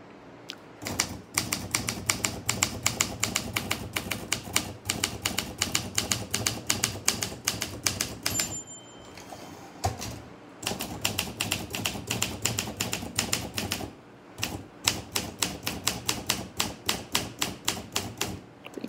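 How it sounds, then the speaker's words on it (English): An Olympia SM3 manual typewriter types steadily and close up, its crisp key strikes coming in rapid, even bursts with a few short pauses and a carriage bell partway through. "This is a video of the Olympia SM3 typing."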